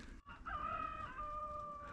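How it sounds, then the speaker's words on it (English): A rooster crows once from a distance in the old town of Side, Türkiye, a drawn-out cock-a-doodle-doo heard faintly over low outdoor background noise. "There's a cockerel crowing."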